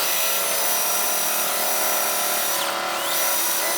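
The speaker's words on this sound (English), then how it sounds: "I could pre-drill the holes for the nails" A power drill bores pre-drilled nail holes into wood for a rustic trash bag dispenser, giving a loud, steady whine up close, with a brief rising and falling shift in pitch near the end.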